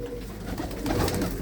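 Pigeons coo in a loft, low throaty rolling calls overlapping close by in a steady murmur, without any talking.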